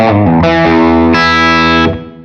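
Electric guitar played through a Fractal amp model with the Klon Centaur pedal switched off, a few loud, driven chords ringing out and sustaining before fading at the end.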